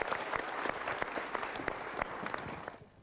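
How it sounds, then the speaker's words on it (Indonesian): Dense audience applause at a motivational seminar, a steady roar of many hands clapping that fades out near the end. "kita berikan tepuk tangan dulu"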